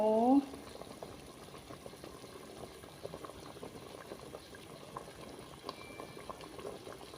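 A pot of clear tom yum soup with saba fish boils at a steady, close rolling bubble throughout, after a brief voice at the very start.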